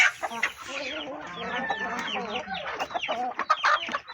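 A flock of mixed-breed chickens, including Aseel and desi hens, clucks and squawks continuously nearby on a poultry farm, overlapping calls forming a busy, chattering barnyard din.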